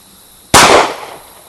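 A single sharp, loud gunshot from an FMK C1 pistol fired at cans outdoors, a close crack followed by a short decaying echo.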